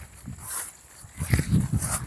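Dogs resting on a farm make brief, low barking and whimpering sounds in a short cluster near the microphone, with quiet outdoor background noise.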